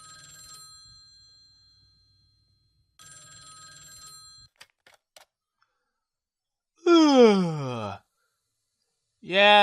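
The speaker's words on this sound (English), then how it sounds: "Okay, so I hear the phone ringing." An old-style telephone bell rings in a Japanese visual novel game, two bursts of bright ringing separated by a pause, followed by short clicks and then a character's voice speaking.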